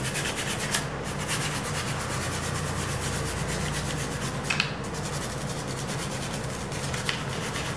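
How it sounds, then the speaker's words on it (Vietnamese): The leather covering of an old camera is polished by hand, producing a continuous close scratchy rubbing in steady back-and-forth strokes with occasional louder scrapes and no talk. "mình sẽ đánh nốt miếng da bên này"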